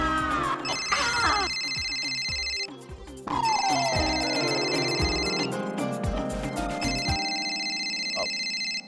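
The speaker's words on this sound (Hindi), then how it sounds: "अरे सागर साहब फोन क्यों नहीं उठा रहे हैं?" Phone ringtone ringing repeatedly without being answered, an electronic melodic tone in several loud bursts with brief gaps between them, alone without talk.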